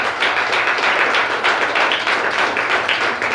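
A church congregation applauds the mothers, a steady, dense wash of clapping from many hands that fills the whole stretch at close range without any talk.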